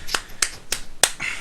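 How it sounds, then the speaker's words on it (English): Four sharp, isolated claps or snaps, evenly spaced and close, with no voices over them. "oh god damn it, someone's clapping"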